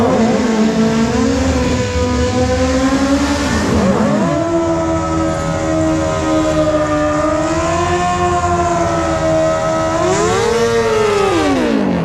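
Drag bikes, including an old-school drag bike, launch together down the strip at a Maui Raceway Park bracket race. Their engines give loud, overlapping high-pitched revs that rise through the gears, close and continuous, with no talk.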